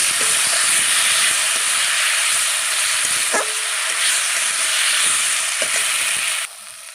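Spice masala frying in a pan for a Bengali rohu fish curry with potato, eggplant and flat beans, a loud continuous close sizzle and hiss with faint stirring clicks, dropping off abruptly at the end.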